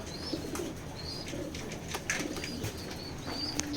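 Checker pigeons coo softly nearby in repeated low murmurs, with occasional wing flutters and small chirps over a faint background hum.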